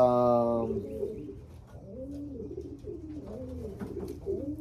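Pigeons coo in repeated soft, rolling phrases close by, following a brief harmonic tone at the start.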